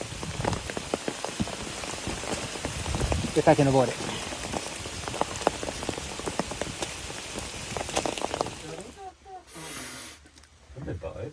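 Steady rain patters and hisses on a surface throughout, on the Appalachian Trail amid lightning, with a person speaking briefly over it before the downpour drops away near the end.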